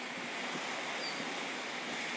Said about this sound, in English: These are the waves coming in before the storm.